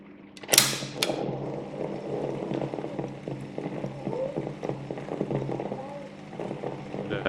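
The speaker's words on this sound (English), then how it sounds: "another small demonstration with the top panel removed so you can see the inner mechanism working" A Philips EL-3515A tape recorder runs with its top panel removed, its inner mechanism giving a close, steady mechanical whir with small clicks and rattles throughout, after a brief sharp clack near the start.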